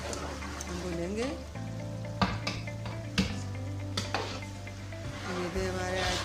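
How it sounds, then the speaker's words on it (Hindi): Meat frying in masala in a pot for a qorma, a continuous sizzle under music with several sharp spoon knocks and scrapes as it is stirred. "अब ये गोश्त इसमें डालकर अच्छी तरह हम मिक्स करके 5 मिनट तक हम भूनेंगे"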